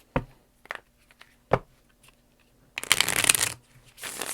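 Tarot cards shuffled for a pick-a-card reading: a few brief riffling bursts early on, then a longer, louder flurry of rapid card shuffling near the end.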